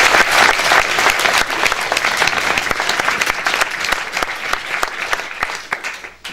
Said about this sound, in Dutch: ook even een applaus geven voor Emily.